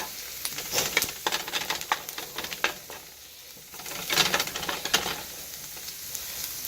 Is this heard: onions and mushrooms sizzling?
yes